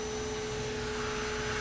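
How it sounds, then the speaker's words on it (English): A vacuum cleaner fitted with a grooming attachment made for long-haired cats runs steadily, a constant close motor whine with a hum and high hiss, with no talking over it. "you can of course buy the expensive vacuum as well"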